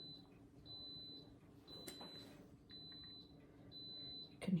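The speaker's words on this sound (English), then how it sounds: "You can hear my Instant Pot over there going off." An Instant Pot cooking frozen hamburger squares sounds off across a kitchen: a series of faint, high electronic beeps repeating at intervals over low room noise.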